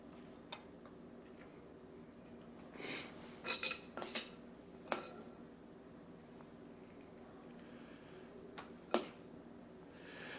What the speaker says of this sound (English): I'm going to feed it in using the back or the straight end of a butter knife